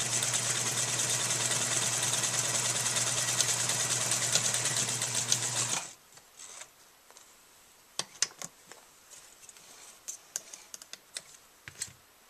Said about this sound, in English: Sew one end of the sock shut using a basting stitch on a sewing machine.